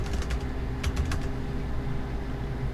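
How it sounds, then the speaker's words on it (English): Typing on a computer keyboard, a short run of close key clicks near the start and then quieter taps against a low room hum. "I just type it out."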